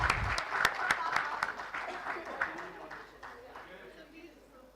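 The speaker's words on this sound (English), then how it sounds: "Can we give a huge cheer for Plutus Plus and Sanya," A crowd at a startup expo and conclave claps and cheers, with loud, dense applause and sharp claps up front that gradually thin and fade away.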